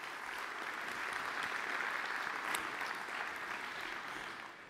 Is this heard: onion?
no